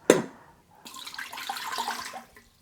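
About 250 ml of water is poured into the pot of a Cosori 5.7-litre 9-in-1 multi cooker: a sharp knock, a brief pause, then a steady splashing pour that tapers off.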